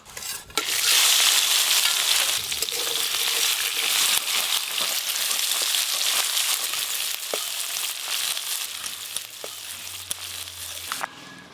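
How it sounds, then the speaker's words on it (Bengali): Oil sizzles and crackles steadily as small crabs fry in a pan, a dense hiss that continues for several seconds with occasional stirring clinks. "এবার কাঁকড়াগুলো ভেজে নেব।"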